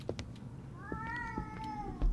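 A cat meows in the horror video game Erie: one long, rising-and-falling meow with clear harmonics, fairly close, over low ambient game noise and a few clicks.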